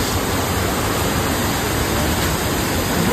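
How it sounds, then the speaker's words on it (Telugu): Darapalli waterfall roars as a loud, unbroken rush of falling water, steady and close with no other sounds or voices. "Darpalli water falls"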